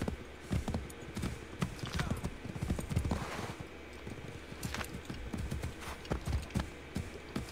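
A horse's hooves clip-clopping in Assassin's Creed III, a steady run of close, distinct hoofbeats throughout with some background ambience and no talk.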